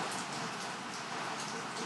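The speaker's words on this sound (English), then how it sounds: "It's raining. Sorry for the noise." Rain falls in a steady, dense hiss with no breaks, close and fairly loud, and no voices are heard.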